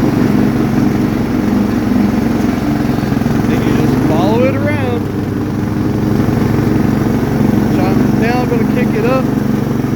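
Riding mower lawn tractor engine droning steadily and loudly up close while mowing a yard, constant throughout with a voice speaking briefly over it midway.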